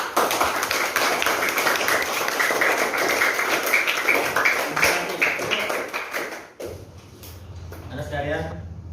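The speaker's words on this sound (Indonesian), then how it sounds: "Tepuk tangan." Students in a classroom clap together for several seconds, a dense, close patter of applause that stops abruptly. A teacher's voice follows.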